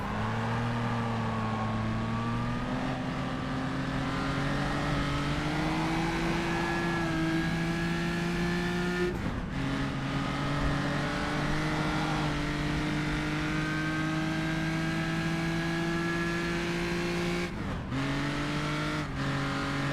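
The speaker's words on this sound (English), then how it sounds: "You could hear the revs climb for a second, but the clutch wasn't fully engaged, or disengaged rather, so the engine was just kind of slipping" A historic race car at a Rouen preseason test drones under load, its engine tone holding and rising as the revs climb while the clutch slips. Two sharp gear-change dips break the steady, loud roar, and no one speaks.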